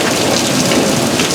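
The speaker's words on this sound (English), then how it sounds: "with the porch light on you might be able to see the rain. It's really coming down." Heavy rain pours steadily during a severe nighttime thunderstorm in Tornado Alley, a loud, close, unbroken hiss of rain striking surfaces with no gaps or voices.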